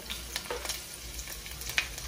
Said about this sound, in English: I'm gonna start frying up these